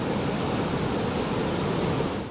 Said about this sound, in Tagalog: Malalakas at matataas pang alon sa baybayin.